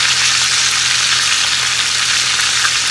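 Onion browning in a hot pan with seasoning and a little salt, a loud, steady, close sizzle and crackle that fills the whole stretch without letup and with no talk.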